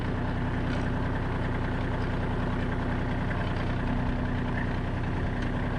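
A Kubota L35 backhoe tractor's diesel engine runs at a steady idle, a continuous low drone with a hum under it, close and moderately loud, heard without talk.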